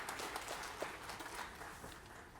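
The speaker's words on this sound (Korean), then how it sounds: "하나님께 영광의 박수를 드리겠습니다." Members of a Korean church congregation applaud during a Wednesday worship service, a faint, distant patter of many hands that tapers off gently.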